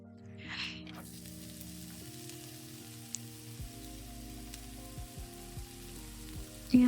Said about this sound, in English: So I'm just going to add my onions now.